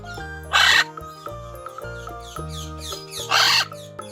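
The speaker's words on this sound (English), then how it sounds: "Macaw." Macaw squawking: two loud, harsh broadband squawks about three seconds apart, standing out clearly over a soft background of music.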